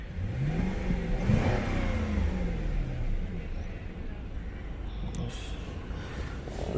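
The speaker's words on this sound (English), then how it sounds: "The car is misfire." A Lexus LS430 V8 with a misfire revs up and settles, a rising and falling engine note with rough, uneven undertone, close and fairly loud.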